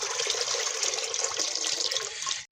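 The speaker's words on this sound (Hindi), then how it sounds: "अब हम इसमें एक जग पानी शामिल करेंगे।" A steady stream of water from a jug pours into a pressure cooker on the stove, loud and continuous for a couple of seconds before stopping abruptly.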